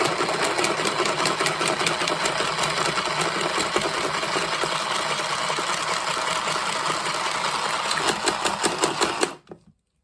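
An Aldi handheld sewing machine stitches through black card with a fast, continuous mechanical chatter, loud and close, for about nine seconds before stopping abruptly.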